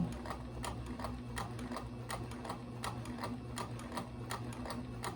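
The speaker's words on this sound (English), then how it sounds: "Now my machine can go really fast, but that's my foot being the control." Home sewing machine stitching a straight seam at steady speed under foot-pedal control, a continuous mechanical hum with rapid, evenly spaced needle clicks, close and alone.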